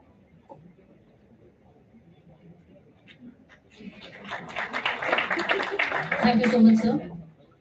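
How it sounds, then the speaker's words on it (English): Audience applause at an international academic conference, starting about halfway through and building into sustained clapping from a sizable crowd over low background murmur. "Let's have a huge round of applause for Mr."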